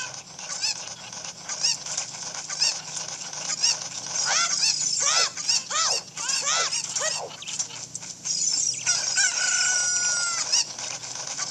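Chickens cluck and squawk in The Legend of Zelda: Ocarina of Time 3D, a busy flurry of repeated calls over steady game background noise.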